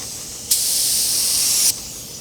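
A single steady burst of spray gun hiss lays a transparent clear coat over a small car body repair, lasting just over a second and starting and stopping abruptly against quiet surroundings.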